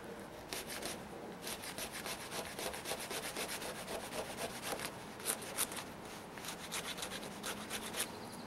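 Spine of a Schrade SCHF24 scraper scraping fatwood, giving quiet, rapid, rhythmic rasping strokes that repeat steadily throughout, close up and with no speech.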